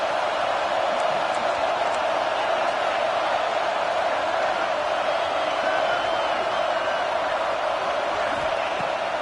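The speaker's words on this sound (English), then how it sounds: "this crowd trying to help keep them there" Steady stadium crowd roar from the College Football 26 video game, a dense continuous wash of voices holding at an even loud level for the full stretch with faint whoops poking through.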